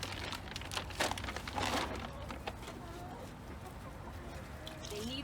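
Farm chickens cluck in scattered, irregular bursts at moderate distance, faint and fairly quiet, over a low rustling background.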